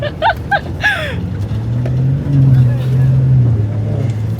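Ford F-150 driving off-road, heard from inside the cab as a steady low engine drone that swells midway, with brief voices early on.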